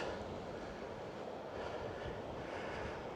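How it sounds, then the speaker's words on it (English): An aircraft passes overhead at a coastal headland in Cornwall, a faint, steady, distant engine drone that holds evenly throughout with no talk. "You can hear an aircraft."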